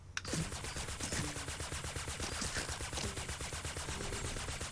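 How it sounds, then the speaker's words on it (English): A light machine gun in Fortnite fires steady rapid bursts, a close, loud, evenly pulsing stream of shots that runs almost the whole time with no talking over it. "let's go ahead and try the LMG now"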